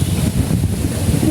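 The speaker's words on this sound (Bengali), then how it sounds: "বাপরে বাপ কি বাতাস!" Strong storm wind in Jessore buffeting the microphone, a loud continuous roar with low gusting surges.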